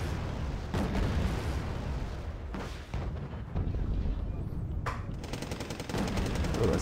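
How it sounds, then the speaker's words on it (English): Mortar and artillery barrage in a tank video game, with distant rumbling blasts and crackling fire layered into a steady noisy battlefield din, and repeated impacts heard throughout at moderate volume. "Oh, here comes the artillery, yeah. 120. Getting bracketed with mortars."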